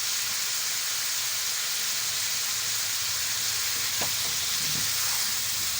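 Spices sizzle in hot oil alongside chicken for a parda biryani, a steady broad frying hiss throughout with a brief clink of the pan near the end.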